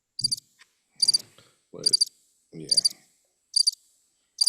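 A cricket-chirping sound effect repeats as crisp, high trilling bursts about every 0.8 seconds, fairly loud and steady, with a brief spoken word and low voice fragments between the chirps.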